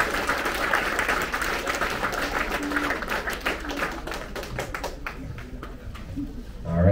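An audience claps at a sixth grade promotion ceremony at Woodbury Elementary School, a dense, even patter of many hands that thins into scattered claps before a closing swell of noise.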